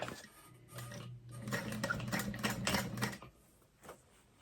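A sewing machine top stitches a fabric binder cover beside a zipper, a close rapid mechanical clatter of needle strokes in uneven bursts that stops toward the end.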